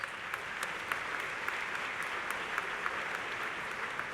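A graduation commencement audience at Northwest Missouri State University breaks into steady, even applause, a dense wash of many hands clapping heard at moderate distance without pause.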